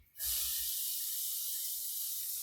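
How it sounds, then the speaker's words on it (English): Chopped red onion hits a hot pan for pasta all'amatriciana and bursts into a sharp, loud sizzle that settles into a steady bright hiss, close to the mic. "I'm going to go ahead and add the onion"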